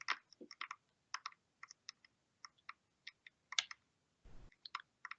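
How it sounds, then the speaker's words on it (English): Irregular clicking of keys being typed on a computer keyboard, faint and close, with brief pauses between bursts and a short rustle near the end. "I hear somebody typing."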